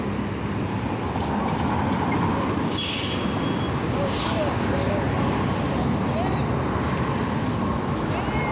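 Valley Metro light rail train at Central & Camelback in Phoenix, a steady broadband rumble of the car running throughout with brief squeal-like bursts near the middle and faint voices mixed in.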